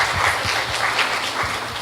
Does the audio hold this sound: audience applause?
yes